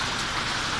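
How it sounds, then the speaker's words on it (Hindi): Heavy monsoon rain pours down in a dense, steady hiss of drops striking surfaces, loud and close for under a second. "ये देख सकते हैं आप कितनी ज़्यादा बारिश है, इतनी ज़्यादा बारिश है दोस्तों।"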